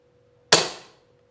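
A single sharp, close report from a PCP air rifle fitted with a silencer, a crisp crack with a short decaying tail, then quiet.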